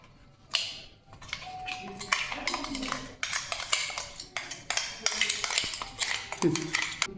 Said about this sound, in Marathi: तर आता मी हा मसाला ह्या पिठामध्ये मिक्स करते